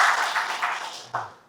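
Applause from the audience at a creditors' association's first official event, a dense burst of clapping that fades quickly, then a short renewed flurry near the end.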